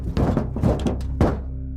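Loud, dull thuds on a roof, a horror-story sound effect: three or four heavy impacts in quick succession with a short ringing tail, and no voices.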